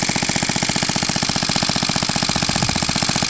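Stationary engine turning a Lucas 12v dynamo by belt and running unevenly, a loud, rapid, steady chugging beat with mechanical clatter, close up and without talk.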